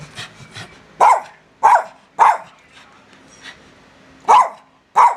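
A dog gives five short, sharp barks, spaced about a second apart and fairly close, with faint soft human sounds in the quieter gaps at the start.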